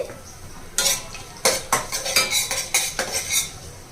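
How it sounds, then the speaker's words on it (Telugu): Chana dal, urad dal and cumin fry in hot oil while a metal spoon stirs and scrapes the pan, giving a series of sharp clinks and scrapes over a soft sizzle, close and fairly loud. "ఆయిల్ వేడైన తర్వాత ఒక స్పూన్ పచ్చిశనగపప్పు ఒక స్పూన్ మినపప్పు హాఫ్ టీ స్పూన్ జీలకర్ర వేసి వేగించాలండి"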